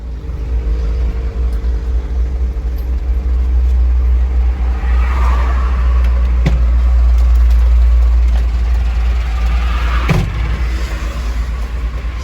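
A Mitsubishi Canter HD truck engine drones on the move, a loud, steady low rumble heard from inside the cab with a couple of faint knocks and no talking.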